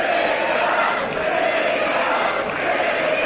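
A wrestling arena crowd at a match between Will Ospreay and Marty Scurll roars in a steady, loud wash of cheering that holds for a few seconds with no break.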